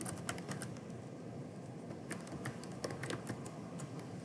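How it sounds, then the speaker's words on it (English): Username and password are typed on a computer keyboard in quick, irregular bursts of light key clicks, faint and close, with no talking. "So you'll type in your login credentials, your username and password"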